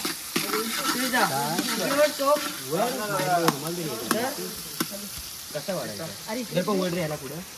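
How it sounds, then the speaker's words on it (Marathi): Spices crackle and sizzle in hot oil while people talk close by over the frying. "फोडणी देताना"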